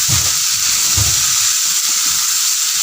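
Fish hisses as it fries in a masala gravy, a loud, steady sizzle with low thumps and scrapes from mixing near the start, and no talking.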